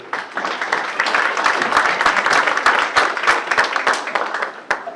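Audience at an athletic banquet breaking into dense applause, many hands clapping close and loud for several seconds before tapering off at the end.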